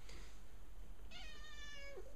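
A pet cat meows once, close and clear, a drawn-out indoor cry that bends down at the end, with a faint earlier chirp before it.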